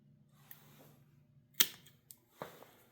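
A grape vine cutting is trimmed shorter before planting, giving a crisp snip from pruning shears amid a few light clicks and handling taps, close and quiet, with no voice.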